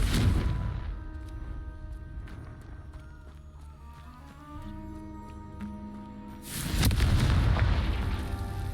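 Confringo fire spell exploding in Hogwarts Legacy, a deep booming burst at the start and another loud blast near the end, with quieter game music and ambience between.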